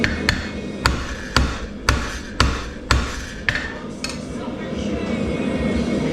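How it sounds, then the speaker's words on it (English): A blacksmith's hammer strikes hot iron on an anvil while forging a fireplace brush, about nine sharp, ringing blows at a steady rhythm, close and loud, then stopping into a low background rumble. "I make a mark with the round side of my hammer"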